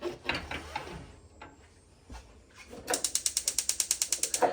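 A piezo igniter on the gas stovetop of a 2024 Timberwolf 16ML RV fires in a fast, evenly spaced run of sharp clicks near the end, after some brief handling noises and a quiet stretch.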